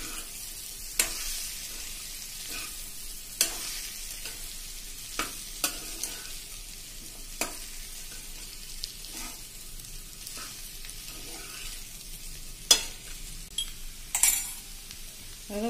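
Punjabi samosa filling sizzling in a pan while being stirred, soft continuous frying broken by occasional sharp clinks of a spoon against the pan, close but fairly quiet.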